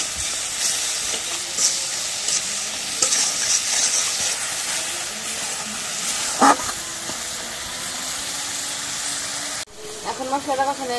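Cumin paste and garlic paste with turmeric and salt fry in a pan, giving a steady close sizzle with scraping stirs and a sharp clink midway, then a voice speaks briefly at the end.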